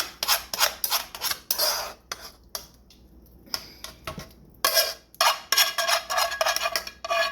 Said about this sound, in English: I'm going to pour this into the pie pan.